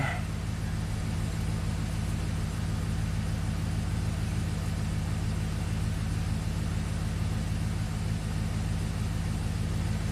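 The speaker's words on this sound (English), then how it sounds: "Injector circuit problem, engine misfire detected." Pontiac GTO V8 engine idling with a misfire, a steady low rumble that runs unbroken and fairly loud for the whole stretch, with no voices over it.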